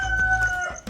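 A rooster crows once, close and fairly loud, in a short burst.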